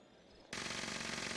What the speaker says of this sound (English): it's just an anti-armor Gatling plasma with faster reload